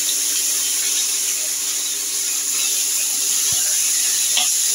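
Small-cut gati kochu (taro) and potatoes fry in a kadai, giving a steady, loud, bright sizzling hiss that continues evenly throughout with no talking.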